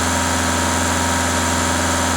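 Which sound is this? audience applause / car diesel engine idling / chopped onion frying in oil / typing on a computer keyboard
car diesel engine idling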